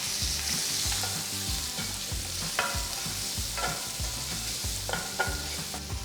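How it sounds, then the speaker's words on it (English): Finely chopped onion frying with hing and curry leaves in a pan for Mysore masala dosa potato filling, a loud continuous sizzle with a few light taps of stirring, no voices. "add 1 large onion finely chopped"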